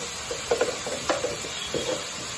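Spoon stirring drumstick and tomato fry seasoned with chili powder in a pan, a few soft scraping strokes with light sizzling underneath, close and fairly quiet, no talking.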